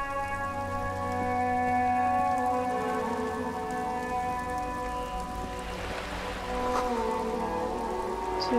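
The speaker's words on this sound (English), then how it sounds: "It's raining. It's getting wet." Steady rain in the Disco Elysium game, a constant hiss of falling drops under sustained tonal ambient music, with no talk.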